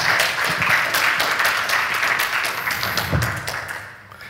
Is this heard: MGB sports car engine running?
no